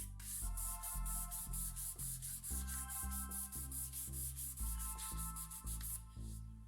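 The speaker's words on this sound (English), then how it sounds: "I'm giving these drawers a new life by sanding the sides." Rhythmic back-and-forth strokes of a power sander on the wooden sides of dresser drawers, loud and close, pulsing steadily with brief pauses between passes.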